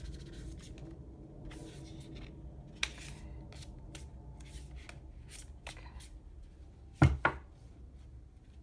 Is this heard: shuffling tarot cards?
yes